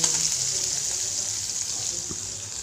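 Chopped onions drop into hot oil for a Kannada-style brinjal stir-fry, giving a steady, close hiss of frying with a bright sizzle running throughout and faint stirring clicks underneath.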